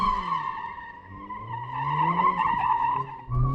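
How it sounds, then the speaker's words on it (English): A Mercedes-AMG A45 slides sideways through a corner, its tires squealing in a sustained, loud pitched howl over steady engine drone, ending with a brief engine surge. "you actually turn more into the corner to make it skid"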